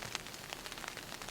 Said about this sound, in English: It's still raining right now, as you guys can hear